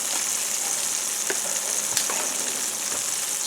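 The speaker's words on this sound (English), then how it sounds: "In our onions go." Onions hit hot butter in a pan and fry with an even, bright sizzle, punctuated by a few light clicks and stirring knocks.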